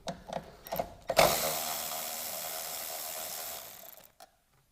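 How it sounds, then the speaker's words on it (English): A Milwaukee ratchet on 10 mm bolts on a 2004–2008 Honda Accord or Acura TSX: a few quick clicks, then a steady whirring power ratchet run for about three seconds before stopping. "Get my trusty Milwaukee ratchets, like my favorites."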